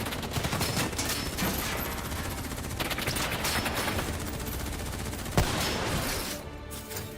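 Sustained, dense automatic gunfire fills a Call of Duty Black Ops 3 firefight, a loud unbroken barrage of rapid shots with a sharper crack near the end and no talk over it.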